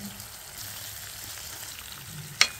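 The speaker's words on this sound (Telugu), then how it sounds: "ఇవి వన్ సైడ్ ఆయిల్లో మగ్గిన తర్వాత వేరే సైడ్కి అయితే ఫ్లిప్ చేసుకుంటాను" Pieces of fish shallow-frying in oil for a tangy fish curry give a steady, soft sizzle throughout, ending with a brief sharp clatter near the close.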